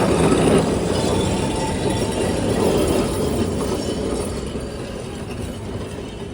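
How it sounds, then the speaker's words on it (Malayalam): An old Kolkata tram rolls past on its street rails, a close, continuous rumble with metallic rattling that slowly fades as it moves away, with no talking. "ട്രാം ഇതാ കടന്നു വരികയാണ്."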